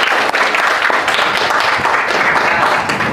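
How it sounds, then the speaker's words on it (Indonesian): A classroom of students claps for a classmate who answered correctly, producing a steady, close wash of applause that holds evenly for about three seconds with no pauses. "Oke, bagus sekali, tepuk tangan."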